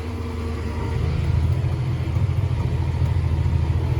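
Farm vehicle stuck in a field at planting time: the engine revs up from a low rumble into a louder, steady drone as it strains to pull free, close and continuous, no talk.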